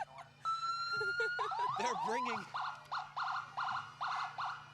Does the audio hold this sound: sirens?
yes